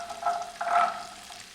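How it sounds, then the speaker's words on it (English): Chopped carrots sauteing in olive oil give a soft, brief sizzle with two short bursts of stirring, fairly faint and close. "I'm going to first saute them"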